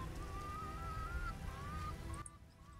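Dense rain in the video game The Witcher patters steadily with a low rumble beneath, joined by a thin sustained tone that wavers, then thins out at the end.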